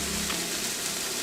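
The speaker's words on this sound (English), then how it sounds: "let that go for another minute on the second side, just to make sure that we lock in all of that juice and really get a solid sear going" Beef sears in a hot pan with a dense, steady hiss and crackle, close and continuous for a brief moment with no voices.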